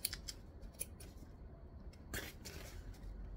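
Scissors trimming loose thread tails while a fabric travel bag is being sewn: a few quick, close snips, faint and crisp, over a quiet room.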